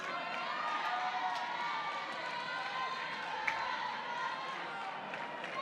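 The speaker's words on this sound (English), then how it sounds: "Crowd still kind of filing in." A crowd files into the stands for an NCAA softball game between Oklahoma and Texas A&M Commerce, making a steady, distant murmur of many people under a speaking voice.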